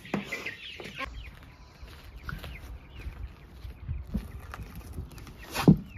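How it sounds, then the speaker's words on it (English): Chicks and hens cluck and peep near a bedded coop, with scattered soft calls and one sharper squawk near the end. "There's a little chicks in here."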